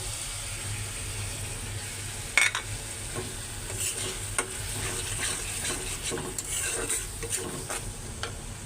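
Prawns fry in a pan of vegetable curry with potol and egg, a low sizzle broken by repeated clinks and scrapes of a spoon stirring against the pot, with no one talking.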